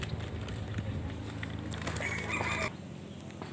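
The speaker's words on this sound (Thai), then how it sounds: "นี่ไก่ไก่ไก่นี่ ไก่ตรงนี้เต็มเลย" Chickens cluck and call over a constant outdoor background hum at a zoo, with one brief louder call near the end.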